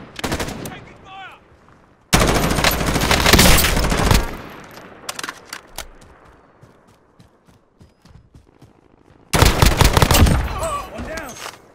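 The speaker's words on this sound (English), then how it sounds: "Taking fire!" Gunfire in the video game Call of Duty: Modern Warfare: three loud bursts of rapid automatic shooting separated by quieter stretches of scattered distant shots and battlefield noise, with no talk.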